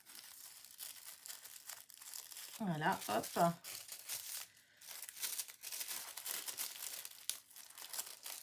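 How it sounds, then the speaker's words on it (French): Blue tissue paper is unwrapped from a parcel, giving close, crisp rustling and crinkling that peaks midway, with a voice speaking briefly over it. "C'est emballé dans du papier de soie bleu."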